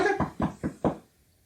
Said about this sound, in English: You're gonna knock on the door?